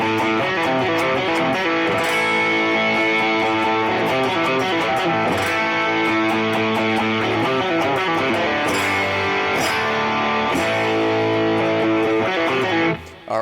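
Opening riff played on a heavily distorted electric guitar, a steady chugging pattern repeating throughout at loud, close volume, with no voices, cutting off abruptly at the end.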